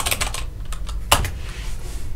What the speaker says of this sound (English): And we'll type accounting.